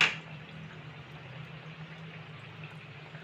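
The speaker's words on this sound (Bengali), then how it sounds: "প্রথমে আমি এই দুটো ভেজে নেব।" Khaja pastry dropped into medium-hot oil in a home kitchen pan, a brief sizzle at the start settling into a soft, steady low bubbling.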